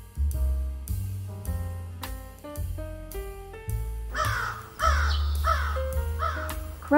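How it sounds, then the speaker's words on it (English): A crow caws in repeated harsh calls over a steady musical backing, part of a children's bird-names lesson, loud and close. "Crow."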